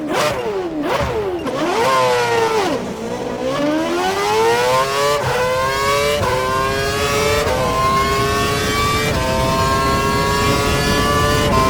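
A Formula 1 car engine in F1 2012 is locked to a lean setting. It revs up and down through several quick gearshifts, then climbs into a long, steady high-pitched acceleration, loud and close, with no talking.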